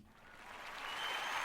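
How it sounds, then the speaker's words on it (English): A crowd of people clapping, the applause building from moderate to fuller and louder over a second and a half, dense and sustained with no talk. "I just want to give you some claps."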